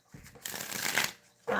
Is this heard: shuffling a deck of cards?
yes